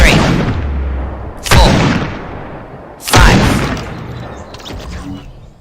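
Three heavy gunshots from a scoped revolver in a video game, each a sharp loud boom with a trailing decay, spaced about a second and a half apart, with no voices over them.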